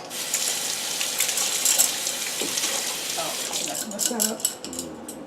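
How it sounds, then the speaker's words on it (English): A kitchen tap runs steadily while hands are washed, a close, loud hiss of water with splashes, and someone briefly speaks over it near the end. "let me just wash my hands a bit"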